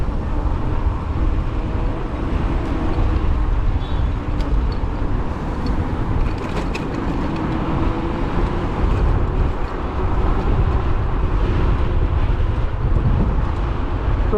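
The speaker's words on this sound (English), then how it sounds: "So windy." Wind buffeting a rider on an e-bike, a loud continuous low rumble that roars steadily throughout with little letup, and no talking.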